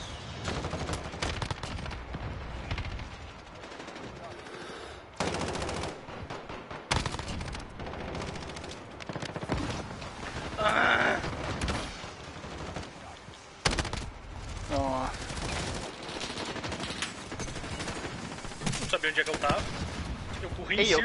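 Bursts of Call of Duty: Modern Warfare gunfire in a flag-capture match, rapid automatic shots and single cracks repeating throughout, loud and close, with occasional voices mixed in.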